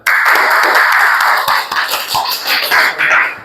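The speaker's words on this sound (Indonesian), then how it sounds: "Tepuk tangan dulu dong." Applause from a classroom of trainee teachers welcoming group 4 to the front to present their poster project: dense, steady clapping that fills the whole stretch at close range, easing slightly toward the end.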